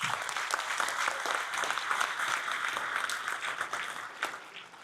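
An audience at the Tata Steel chess tournament in Wijk aan Zee applauds steadily, a dense patter of many hands clapping at moderate volume, tapering slightly at the end.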